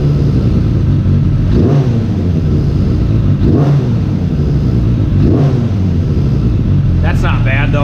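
Carbureted engine revving up with the throttle three times, then settling back to a steady idle, loud and close, with a voice briefly heard at the end.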